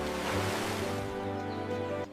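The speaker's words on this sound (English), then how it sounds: "Elephants use their trunks to drink water and also to spray water on themselves." An elephant at a zoo sprays water from its trunk, a steady, fairly loud rushing splash that runs continuously for about two seconds and then drops off abruptly.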